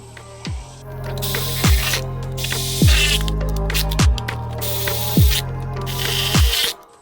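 A 1/4 inch ratchet tightening valve cover bolts on a Honda Accord Sport: about six loud, evenly spaced bursts of ratcheting strokes, close up, with no voices.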